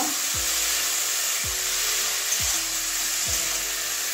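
Cabbage, potato and carrot fry in hot spiced oil, giving a loud, constant sizzle and hiss, broken about once a second by a short scrape as a spatula stirs the vegetables through the pan.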